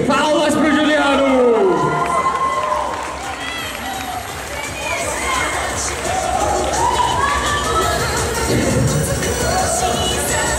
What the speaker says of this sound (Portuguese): Palmas pro Juliano!